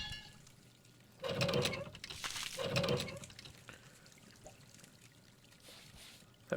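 Dug-up dirt tipped into a wash pan in the mining game Hydroneer, two short pouring rushes a second apart followed by a quiet trickling tail.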